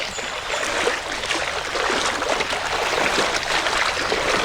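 Footsteps splash through shallow creek water on a walk along a canal, with steady close sloshing and trickling over the flowing stream.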